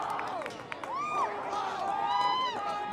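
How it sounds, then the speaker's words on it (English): Spectators at a Lady Wolves versus Rogers Rams girls' soccer match keep up a steady roar, with rising shouts and whistle-like calls over continuous crowd noise and nearby talking. "The crowd's going wild."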